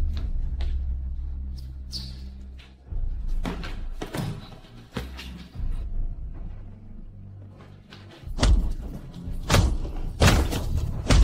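Punches thudding in a staged fight, a run of dull, heavy impacts at irregular intervals with several louder close hits toward the end, no talk over them.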